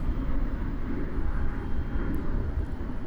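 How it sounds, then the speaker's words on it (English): A steady low roar of a jet passing overhead at an airport in Microsoft Flight Simulator 2020, a continuous rumbling drone with no talk. "Why is there the sound of a jet flying overhead?"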